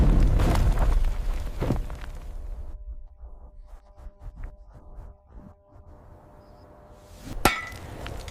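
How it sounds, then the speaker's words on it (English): Heavy hammers strike while an installation is built outdoors on dusty savannah ground, a loud rumbling start giving way to scattered knocks and one sharp metallic hit near the end. "The silence breaks with the strike of heavy hammers."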